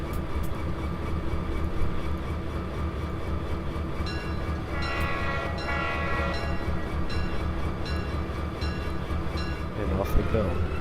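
A train in the Trainz railway simulator rumbles steadily along, with what may be a brief horn sound near the end. Voices talk over the constant rail noise.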